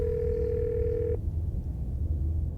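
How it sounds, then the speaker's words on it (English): A steady telephone dial tone in the game Scarlet Hollow holds for just over a second, then cuts off, leaving a low murmuring background. "You once again hear something, then a dial tone."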